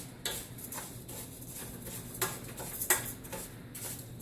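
Mexican rice being stirred in a pot, a series of light metallic clinks and scrapes of the spoon against the pot at an irregular rhythm, close and fairly quiet with no talking.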